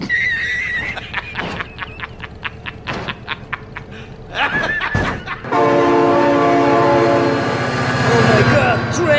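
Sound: train horn and passing train in video game BeamNG.drive

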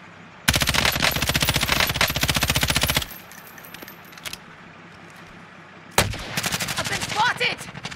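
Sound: gunfire in Call of Duty Warzone video game

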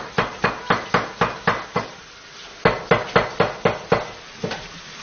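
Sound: knife chopping vegetables

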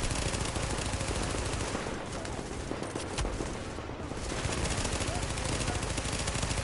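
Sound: gunfire in The Division video game

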